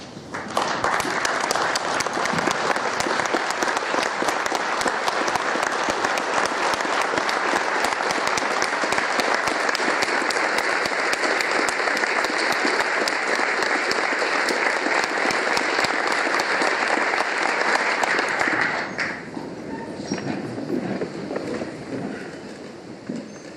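A large standing audience at a memorial evening and book launch in Novi Sad claps steadily and loudly for about twenty seconds, then the applause drops off into scattered clapping and murmuring.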